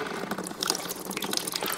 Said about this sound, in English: So we'll just let this machine drain down